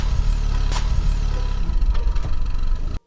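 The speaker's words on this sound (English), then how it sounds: "What's that sound? A car?" A car engine at night, a low rumbling drone with a brief rev as it passes nearby, then cutting off abruptly at the end.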